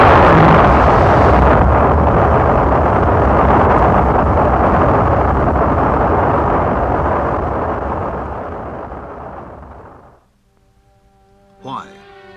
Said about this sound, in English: This launch carried an Earth satellite into orbit.